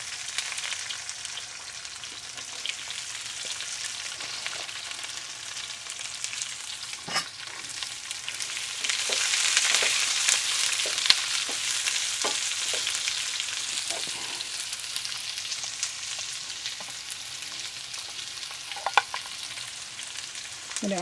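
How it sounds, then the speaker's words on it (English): Onions frying in oil for chicken curry, a continuous hissing sizzle that swells midway, broken by occasional clicks and scrapes of stirring, close and steady with no talk. "I'm going to add the onions."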